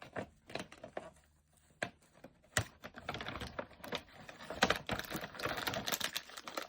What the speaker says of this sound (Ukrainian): Відкриваємо ось ці пакети.